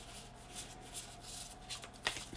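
Soft, quiet riffling of a deck of cards being shuffled, with light flutters and a crisp snap near the end.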